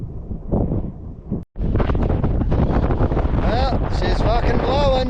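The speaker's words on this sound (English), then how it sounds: "Probably got about a 20 knot wind down here at the block." Strong southerly wind, around 20 knots, on the Dirk Hartog Island coast: loud, constant roar buffeting the microphone after a short break, with a voice briefly heard over it.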